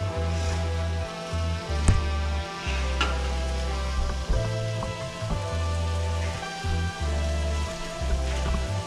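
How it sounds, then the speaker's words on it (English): Continuous loud sizzling of green beans frying in a pan, crackling and popping throughout with a low steady hum underneath. "Now they're starting to sizzle."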